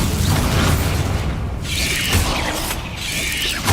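Bombarda blasting spell cast in Hogwarts Legacy, a heavy, continuous rumbling boom with mechanical grinding and crackle that fills the whole stretch, loud and dense with no pause.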